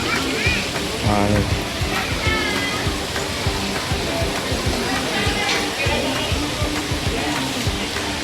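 Water rushes continuously through an artificial river at a waterpark, a broad splashing wash that fills the scene throughout, with people talking and calling out over it.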